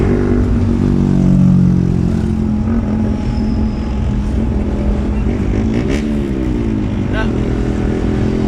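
Motorcycles moving through street traffic in Dumaguete, engines droning and revving close by, with a voice talking over the steady traffic noise.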